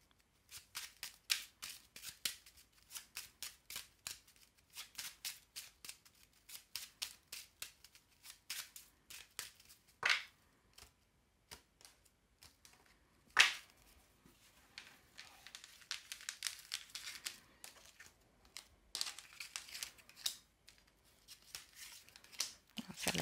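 Belline oracle cards are shuffled and handled close up in a quiet room, giving a long run of soft, quick flicking and riffling bursts with a few sharper snaps in between.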